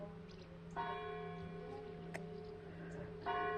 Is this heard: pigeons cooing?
no